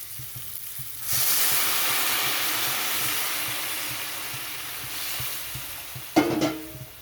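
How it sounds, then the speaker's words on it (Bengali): Hot water poured into a pan of simmering fish curry with potato and eggplant sets off a loud, steady sizzle and hiss that carries on alone, ending with a brief sharper clatter of stirring. "এখানে দিয়ে দিচ্ছি গরম জল"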